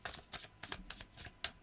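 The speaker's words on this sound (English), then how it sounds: "That doesn't count because that was my crappy shuffling." Tarot cards being shuffled by hand, a rapid series of crisp riffling bursts and flicks in an uneven rhythm, close and alone without talk.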